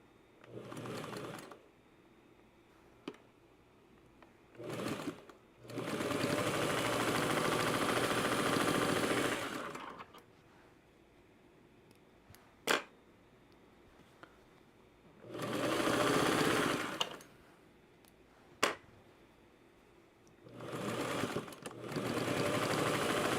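A sewing machine stitching a quilt runs in several sustained bursts of steady mechanical whirring, separated by pauses with a few sharp clicks, close and fairly loud, with no speech.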